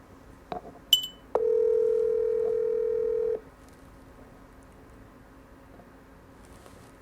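A steady telephone dial tone plays alone for about two seconds after a few short clicks and beeps, on a call that fails to connect; quiet room noise continues afterward.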